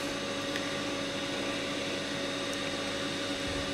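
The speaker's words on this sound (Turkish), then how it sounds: "Motorumuz çalışıyor." The motor of a prefabricated pool runs in a steady, unbroken mechanical hum with a constant tonal drone, close and fairly loud throughout, with no voices over it.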